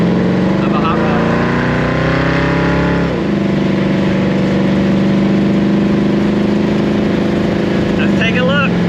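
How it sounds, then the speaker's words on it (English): Hot rod roadster on new bias-ply tires and steel wheels, its engine droning loudly at steady revs with a shift in pitch partway through, heard from inside the car while driving. "I love the sound of a hot rod."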